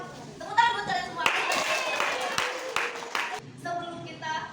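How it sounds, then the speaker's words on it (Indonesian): A classroom of students in a geography teaching session clap their hands together in a brief burst of applause. The clapping sits between stretches of a teacher speaking. "Tepuk tangan buat kalian semua."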